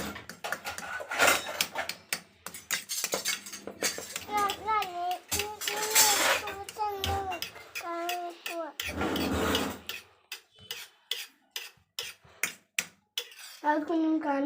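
A utensil clinks and scrapes rapidly against a bowl while salted egg mixture for an omelette is stirred, bursts of sharp taps under a woman's speech and a voice in a home kitchen.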